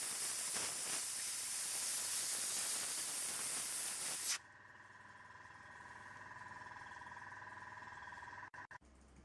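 An airbrush sprays paint onto a miniature with a loud, steady hiss that cuts off sharply partway through, then gives way to a quieter tonal hum broken by a few brief dropouts.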